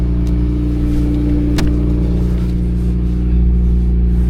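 A Nissan Z with lower downpipes and a catback exhaust idles with a low, steady exhaust rumble nearby, deepening slightly near the end; one brief click cuts through midway.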